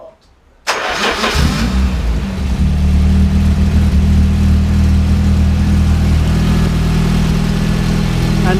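A car engine catches after a quiet moment and settles into a steady, loud running drone with a low hum that holds for several seconds, close by.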